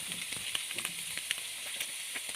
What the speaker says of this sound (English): just a few minutes for them to saute, like sauteing onions